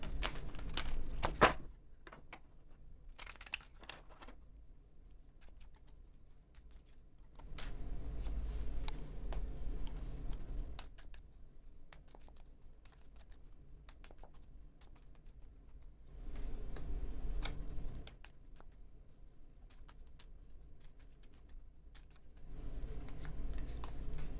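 Soft, intermittent tarot card shuffling in a quiet room, bursts of riffling and sliding separated by near silence, with no voices.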